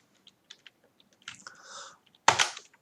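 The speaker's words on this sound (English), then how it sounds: "So in that case, I need to type for I in range" Python code typed on a computer keyboard: several light scattered key taps, a short run of clicks, then a louder clatter at the end, close and quiet.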